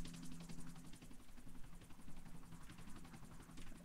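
A helicopter in Grand Theft Auto IV flies with a steady, loud rotor chop and whine that stays constant throughout, with no voices over it.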